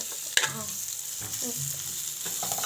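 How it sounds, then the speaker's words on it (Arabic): Potatoes and green onions sizzle in a pan, with a few sharp scrapes and clatters of stirring over a soft, continuous frying hiss. "هننزل حالا بقى الجزء اللي بياخد سوا هو البطاطس"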